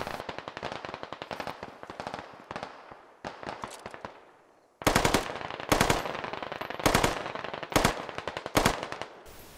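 Rapid automatic gunfire in the video game Squad, several long bursts and short volleys of sharp cracks, some nearer and louder, others more distant, with brief gaps between strings of shots.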